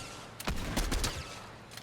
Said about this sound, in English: Why are you shooting the boss?